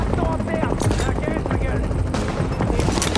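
Gunfire aimed at helicopters in the video game Tom Clancy's The Division: loud, dense bursts of shots over a steady rotor drone, with a person talking over the action.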